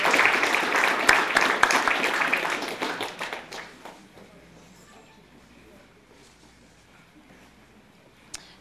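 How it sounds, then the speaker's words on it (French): An audience applauds for Geneviève Savard at a borough council meeting in La Baie, a dense burst of clapping that fades out over a few seconds, leaving a quiet room. "on applaudit Geneviève"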